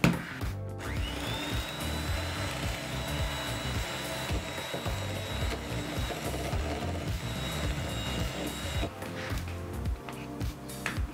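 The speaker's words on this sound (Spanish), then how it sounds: "Y ahora vamos a batir." An electric mixer beats muffin batter steadily for about ten seconds, a continuous whirring motor with a rattling, grinding texture that starts abruptly and stops near the end.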